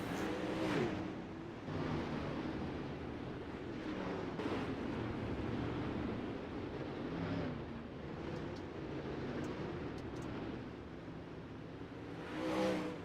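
Sprint car engines with 360 power race around Kokomo in a sim racing game, a dense continuous drone of several cars roaring together with rising and falling revs, steady and loud throughout.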